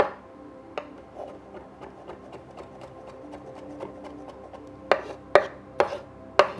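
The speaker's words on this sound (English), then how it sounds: "so now I got my mincing on, and it's coming along pretty good" A knife mincing garlic on a cutting board, with steady quick chopping taps that build into several louder, sharper chops near the end, close and alone.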